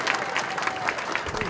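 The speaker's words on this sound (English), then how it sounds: "If we could give them a round of applause." Brief burst of applause from a town master plan meeting audience, many hands clapping at once with voices mixed in.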